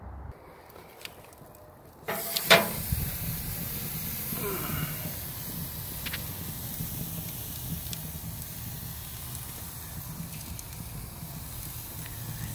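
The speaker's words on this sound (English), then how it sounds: "But for now, let's sear some steak." A tomahawk ribeye steak with no seasoning hits hot lump coals beside pushed-aside logs, setting off a sudden burst of steady sizzling hiss that carries on at a moderate level with small pops.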